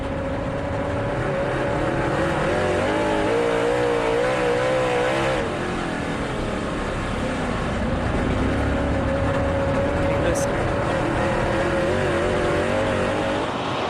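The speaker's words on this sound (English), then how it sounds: "what I hear is when he gets pointed straight, he really gets back to the gas hard" World of Outlaws late model race car engines roar continuously at Lernerville Speedway during the 2009 Firecracker 100, a loud, dense engine drone that swells and surges as the cars accelerate, with no talking.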